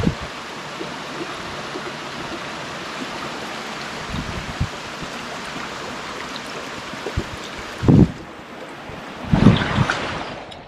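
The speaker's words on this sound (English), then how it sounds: "This is the waterfall area." A low-flow waterfall in Penasquitos Canyon, San Diego, makes a steady broadband rush of falling water heard outdoors at moderate distance, with a couple of brief wind bumps on the microphone near the end.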